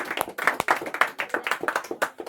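A class of Class 10 maths students claps loudly in a quick, steady burst of overlapping hand claps, close and bright, lasting a couple of seconds with no talking.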